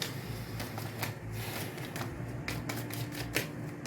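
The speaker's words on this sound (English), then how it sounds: "Let me do a bridge shuffle." Tarot cards being bridge-shuffled by hand, a quiet close series of riffling flutters and soft papery clicks in uneven bursts, with no talk.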